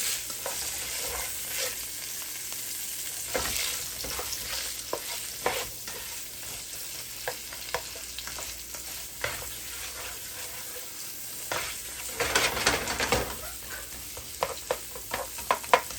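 Peppers and onions sizzle and fry steadily in a pan with a little salt, with occasional stirring scrapes and louder bursts of crackle near the end, no talking.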